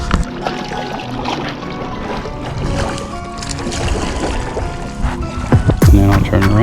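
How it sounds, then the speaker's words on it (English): A kayak paddled across open water gives soft splashes and trickling drips under a voice, with a heavier pouring splash near the end as the blade lifts water. "It's really easy to paddle."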